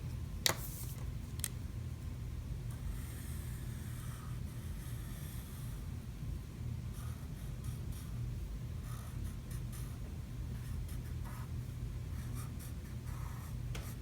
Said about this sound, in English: So that's why I draw lightly, so that I can erase easier.